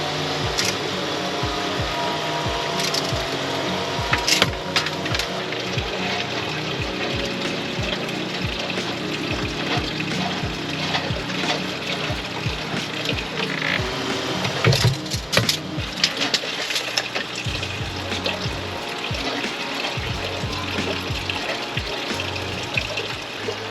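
Water pours and splashes steadily into a koi pond as it refills, with a busy, continuous rushing and trickling texture and scattered clunks and knocks throughout, close up and without speech.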